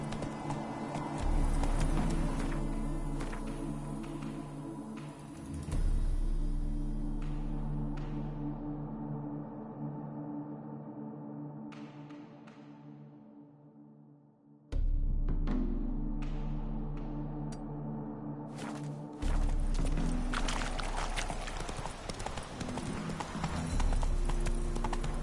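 Roach the horse's hooves clip-clop in The Witcher 3, steady rhythmic hoofbeats with breaks and restarts, heard alone against low in-game ambience with no voices.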